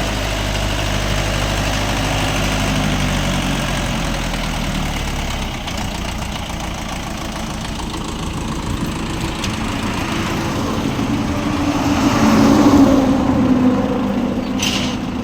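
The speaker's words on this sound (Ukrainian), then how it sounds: "Трохи їдемо бусом, трохи лаветою." A van and a tow truck idle nearby, a steady, loud low rumble with a faint knocking vibration that swells slightly toward the end, with no talking.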